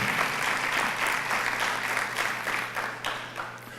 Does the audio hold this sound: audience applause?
yes